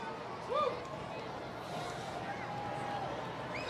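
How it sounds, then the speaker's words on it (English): An excited crowd at a 2024 total solar eclipse viewing makes a steady wash of mixed voices and outdoor noise, with one brief louder rise near the start. "A lot of excitement still here in the crowd."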